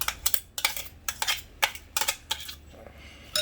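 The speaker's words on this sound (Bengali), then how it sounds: "এভাবে এরকমভাবে আমরা চিকেনটাকে গ্রেট করে নেব।" Raw chicken rubbed against a metal grater in a home kitchen, giving a quiet series of irregular scraping strokes with light metallic clinks and taps.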